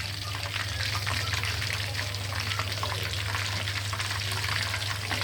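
A whole chicken frying in a pan in oil for a Chittagong-style durus kura, giving a steady, even sizzle with a low hum under it and no talking.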